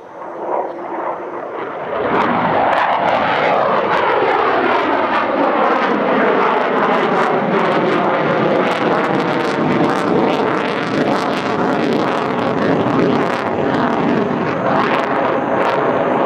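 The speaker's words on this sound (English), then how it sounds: "This is one of the finest solo fast jet displays I have ever seen by a Western fighter." A Boeing fighter jet flown by a test pilot in a solo display at the Dubai Airshow, its engine roar swelling after two seconds into a loud, sustained, shifting thunder overhead.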